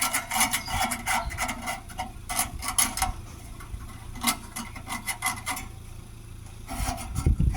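A file rasps burrs off the cut edge of a metal downpipe, several bursts of short repeated strokes with brief pauses between, close and moderately loud, with no one talking.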